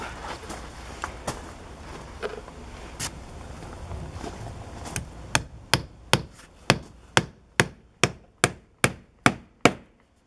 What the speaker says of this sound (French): j'ai mon angle, mes clous au marteau, et là, on part